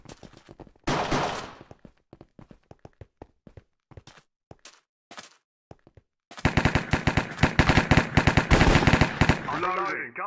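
Gunfire in the Minecraft Hypixel Cops vs Criminals game: scattered single shots at first, then a sustained loud burst of rapid automatic fire, ending in a brief mechanical reload-like sound.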